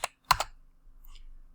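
Computer keyboard keys pressed while entering a measurement in window and door layout software, two quick close bursts of tapping and then near silence.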